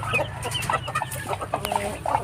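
Home-bred Aseel and Shamo type roosters and chickens cluck close by in a busy, overlapping chatter of short calls, with no voices heard.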